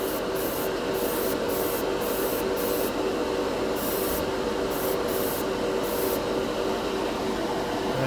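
Airbrush spraying Turbo Dork color shift paint thinned with Golden airbrush medium over Mr. Color matte red, a steady close hiss running without a break, with brief pulses of higher air as the trigger is worked.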